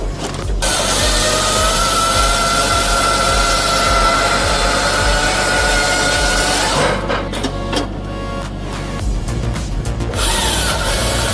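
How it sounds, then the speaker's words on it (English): Hydraulic firewood processor sawing and splitting logs, a loud, steady mechanical grind and whir running throughout with rough wood-rubbing texture, shifting and stuttering in its last few seconds. "It automatically cuts and splits logs into firewood using hydraulic power."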